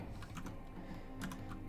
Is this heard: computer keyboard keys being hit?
yes